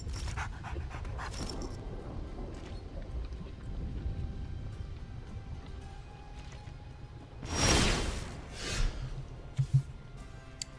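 A dog pants in the Magic: the Gathering Arena video game, breathing close and rhythmically over a low background, with a louder rushing whoosh partway through.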